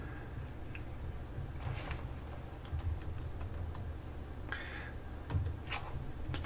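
Keys clatter on a computer keyboard in uneven bursts of quick clicks, faint and close, with short pauses between runs of typing during a Metasploit Framework session.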